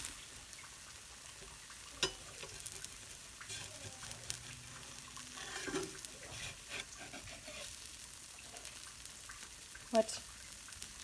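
Potato pieces are flipped in a hot frying pan: a soft steady sizzle with a few scraping clatters and a sharper knock near the end, under a low room hum.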